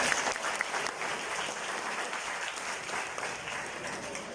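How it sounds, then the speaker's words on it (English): An audience applauds, a dense wash of clapping from many hands that carries on steadily without a break. "Please give a round of applause."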